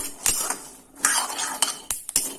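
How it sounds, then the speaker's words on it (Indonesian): Peanuts dry-roasting in a pan give off sparse, sharp crackles and clinks, mixed with scraping stirring, close and fairly quiet. "Ini masih terdengar bunyi peletik-peletik ya."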